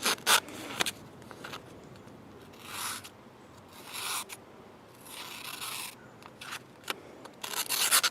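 A reprofiled Spyderco Delica 4 Wharncliffe blade slices through a sheet of paper in several short rasping swipes, close and fairly quiet, separated by brief pauses.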